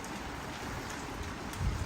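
Steady rain pours down as a constant hiss with a faint patter, moderately loud and unbroken throughout, with no voices.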